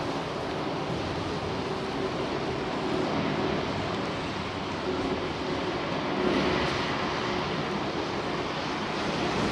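A jet airliner with CFM engines at London Heathrow gives off a steady, broad roar that holds throughout and swells slightly near the end, with no voices.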